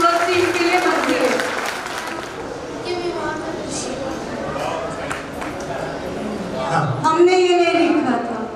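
An audience claps for the first team at a religious cultural program, a steady dense patter that holds through most of the moment while voices talk over it.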